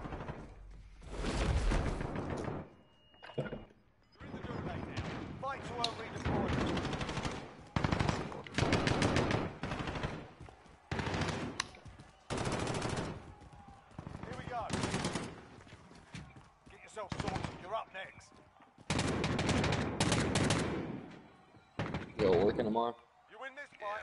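Rapid bursts of Desert Eagle pistol fire in a video game, sharp repeated shots in clusters with gaps between, mixed with loud excited voices talking over the gunfire.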